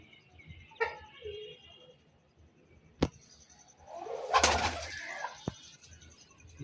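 Pigeons in a breeder's loft giving soft, low coos and short calls at close range, with a sharp tap and a brief burst of wing flapping and rustling amid quiet background murmur.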